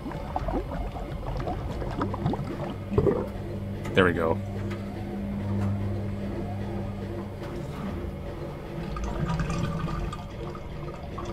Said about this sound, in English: Now do I have to like drain, like clean out this water?